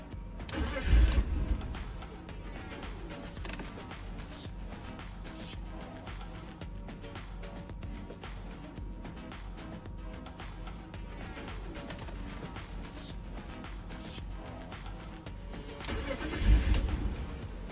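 A BMW E46 with a fuel pump problem cranks and catches briefly at the start, runs at a low steady idle, then cranks again near the end, with no talk over it.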